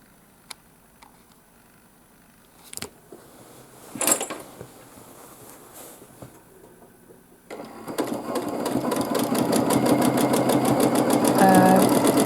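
A domestic sewing machine free-motion quilting a soap bubbles pattern, quiet with a few knocks at first, then running in a steady, fast mechanical whir for several seconds, close by.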